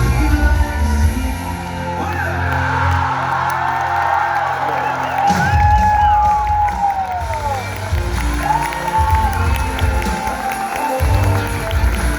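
An audience cheering, whooping and yelling after a performance, a loud sustained crowd roar with shouts rising and falling throughout, mixed with some voices.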